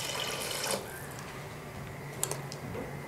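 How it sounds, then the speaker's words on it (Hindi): Water poured into a pot of soaked rice on the stove, a soft splashing pour near the start followed by quieter trickles and light clinks of the pot. "थोड़ा सा पानी और डाल दें।"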